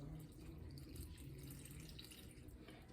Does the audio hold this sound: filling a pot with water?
yes